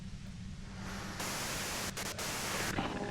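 Steady hissing white-noise static from the game Disco Elysium fills the clip alone, broadband and even, with a few brief dropouts and faint tonal blips near the end.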